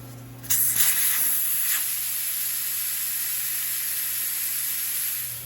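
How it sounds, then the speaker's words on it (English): Air rushing out of a tire's valve stem with the valve core removed: a steady, fairly loud hiss that starts abruptly and holds evenly for several seconds, with a low machine hum underneath. "as the last of the air is coming out of the tire here"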